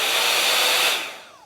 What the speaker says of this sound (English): just make sure our little blow dryer is plugged in.